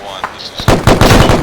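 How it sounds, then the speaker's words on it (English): Machine gun fire in a military video game, a single faint shot and a thin tone followed by dense, loud bursts of rapid automatic shots, no voices. "looks like we're getting shots inbound from 4-1"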